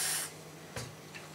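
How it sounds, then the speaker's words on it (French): WD-40 aerosol sprayed onto an RC car wheel rim: a short hissing burst at the start, then two quicker fainter puffs, close up with no talking. "On en vaporise partout sur la jante"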